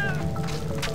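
A pet cat in the Fate video game lets out a single drawn-out meow, close and fairly loud over game background sound.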